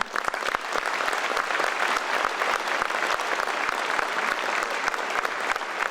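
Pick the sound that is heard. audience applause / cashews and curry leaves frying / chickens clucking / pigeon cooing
audience applause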